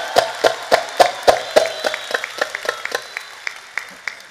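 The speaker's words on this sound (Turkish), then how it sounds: "Alkış!" At a concert, during a surprise marriage proposal, a crowd claps in rhythmic unison, the loud, sharp beats slowing and thinning into scattered claps over about four seconds.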